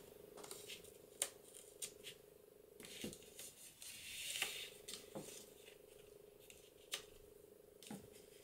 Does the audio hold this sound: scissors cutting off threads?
yes